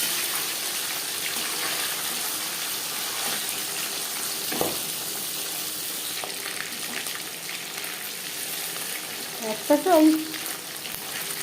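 Fish marinated in salt and turmeric fries in refined oil, a steady crackling sizzle throughout with a few soft clinks near the end and a brief spoken phrase.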